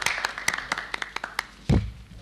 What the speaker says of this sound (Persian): تشویقش بفرمایید